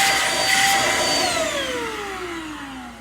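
Samsung CycloneForce upright vacuum cleaner running with a loud, steady roar and whine, its pitch gliding downward as the motor winds down, close by with no talking.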